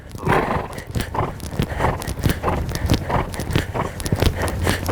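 A dressage horse cantering on the right lead, close rhythmic hoofbeats thudding in a steady three-beat pattern with creaks and breathing, no talking.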